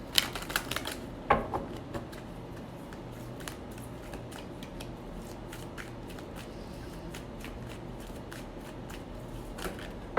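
A quick burst of tarot cards riffling close by, followed by soft, sparse taps and shuffles over a quiet background.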